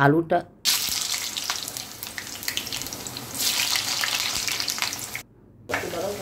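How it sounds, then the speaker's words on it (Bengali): Potatoes drop into hot oil in a home kitchen pan for an aloo phulkopi dish, giving a loud, continuous crackling sizzle that briefly cuts out and resumes, with a voice briefly at the start. "আমি তেল বসিয়ে দিয়েছি। এবার আমি আলুটাকে ছেড়ে দিলাম।"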